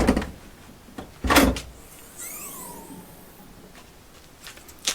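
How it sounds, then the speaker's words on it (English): Ford Ranger Raptor bonnet being released: a couple of sharp thuds and a louder clunk early on, followed by a faint high creak or scrape, then quiet handling noises. "pop your bonnet"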